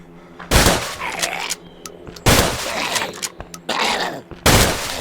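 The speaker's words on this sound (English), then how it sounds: "All right, let's try the pump action shotgun." Pump-action shotgun in Survive The Nights firing four heavy, booming blasts at uneven intervals, each followed by a ringing tail and mechanical clatter between shots.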